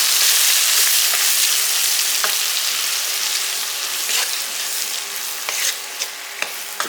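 Lentils fry in hot oil with dried red chillies, a loud, steady sizzle joined by occasional scraping clicks of a spoon stirring the pan.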